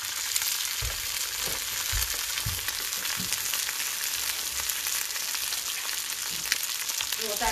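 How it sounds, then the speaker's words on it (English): An egg cracked into the middle of a slice of bread frying in a pan gives a steady, dense, close hiss of frying fat that keeps going evenly, with a few faint low knocks and no talking. "while that's cooking on one side, you go ahead and crack an egg right into the middle there."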